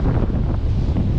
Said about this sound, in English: It's just so windy down here that it's kind of irritating actually.